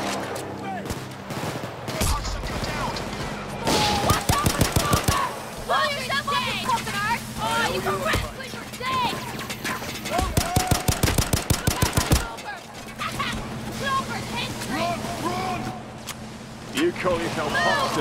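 Machine gun fire in a Payday heist shootout: two long rapid bursts of close automatic fire, with scattered shots, shouting voices and game noise around them.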